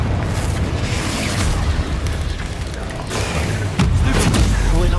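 A Confringo blast spell going off in the Hogwarts Legacy video game, a dense continuous booming rumble with a sharper burst near the end, loud and close amid ongoing combat noise.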